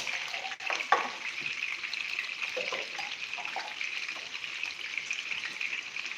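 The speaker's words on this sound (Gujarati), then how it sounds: "હવે આપણે ડુંગળી એમાં ફ્રાય થાય છે" Onions fry in a pan with a steady, bright sizzle across the whole stretch, close up, broken by a few soft clinks and scrapes, with no voices.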